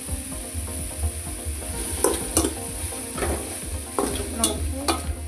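Bottle gourd, tomato, salt, turmeric and asafoetida sauté in a pan for kuzhambu, a low continuous sizzle with repeated metallic clinks and scrapes of a spoon stirring close by.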